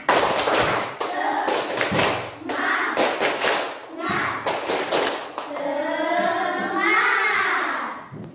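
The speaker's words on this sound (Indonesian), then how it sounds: "1, 2, 3, tepuk semangat" Children in a classroom perform a rhythmic spirit clap, sharp clap bursts in a patterned sequence broken by pauses, followed by a child's or teacher's voice speaking near the end.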